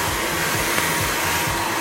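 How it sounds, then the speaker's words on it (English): A noisy hair dryer blowing continuously at close range in a hair salon setting, a loud steady rushing whoosh with no talk over it. "I don't have this noisy hairdryer"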